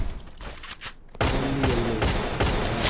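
Rapid bursts of M1014 shotgun fire in the Free Fire video game, a few sharp shots early and then a dense, loud continuous volley filling the rest.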